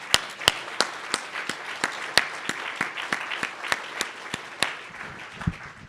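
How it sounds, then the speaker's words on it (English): Scattered applause from a panel audience for the doctors in the room at a talk on veteran overmedication. Sharp individual claps ring out close by, irregular and sparse, over a quiet room. "Let's give you a round of applause."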